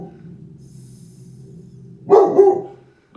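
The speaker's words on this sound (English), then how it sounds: "Now I got Lacey barking." A dog named Lacey barks twice in quick succession, moderately close, against a steady low background hum.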